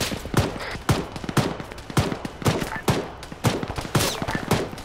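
Video game gunfire rattles at a town in rapid, repeated bursts, including heavy automatic fire from a BTR armored vehicle, loud and close throughout.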